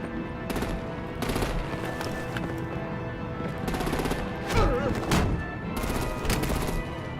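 Rapid machine-gun fire and gunshots from the video game Batman: The Enemy Within come in several loud bursts over a dense, rumbling action soundtrack, with brief whooshing effects in the middle.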